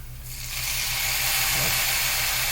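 Garlic and mushrooms hit a hot pan and burst into a loud, steady sizzle that rises within the first half second and holds, with a low hum running beneath.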